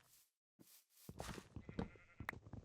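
Minecraft sheep bleating in-game, a few short nasal calls among soft game sounds and footsteps after a quiet opening, fairly close and moderately loud.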